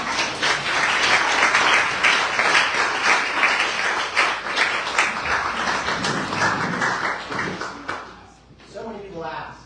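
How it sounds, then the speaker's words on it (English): Roaring applause from a performance audience fills the room, loud, dense and sustained for most of the span, then thins out toward the end as a few scattered claps linger. "please go have a seat for roaring applause"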